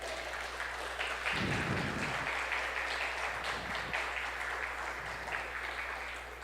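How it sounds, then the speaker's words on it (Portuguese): Church congregation applauding Jesus after a sermon, a steady broadband wash of clapping throughout with a few low thumps and a constant hum underneath, no talk. "dê um amém e uma salva de palmas para Jesus"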